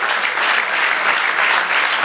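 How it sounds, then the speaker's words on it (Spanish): A church congregation bursts into loud, dense applause during a Spanish-language sermon, continuous clapping from many people filling the whole moment. "Denle un aplauso al Señor."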